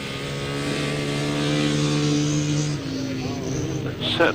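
A 250cc Honda Super Dream Twin grasstrack motorcycle races with other machines, its exhaust holding a steady droning note that drops in pitch near the end, loud and fairly close, with a commentator talking over it.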